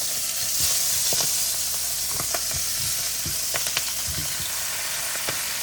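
Brussels sprouts frying in a pan over high heat, giving a steady close sizzle and hiss with scattered pops and crackles throughout.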